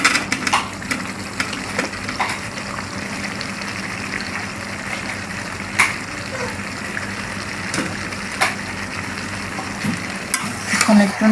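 Potatoes fry and get stirred in a pan, a continuous close sizzle broken by scraping strokes of a spoon at irregular moments.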